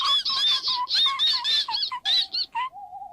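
Children imitating mice with their voices, a quick run of high, thin squeaks in short bursts, close and loud, ending on a couple of longer, lower squeals.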